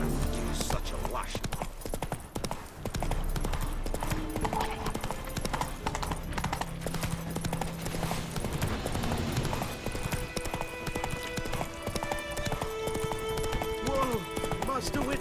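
Roach the horse's hooves in The Witcher 3, a steady, loud and close clip-clop of galloping, heard under game music with a few spoken lines and shouts.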